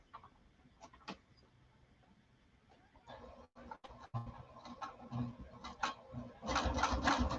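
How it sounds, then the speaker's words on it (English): A sewing machine stitching quietly, set back to tension 4, runs in short intermittent bursts with pauses and light clacks, then builds to a louder, steadier whirr of stitching in the final second. "So now I'm going to sew back down the other side"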